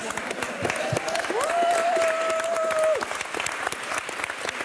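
A studio audience on a French television show applauds in a steady, dense wash of clapping, while a held, wavering tone rises over it for a few seconds in the middle.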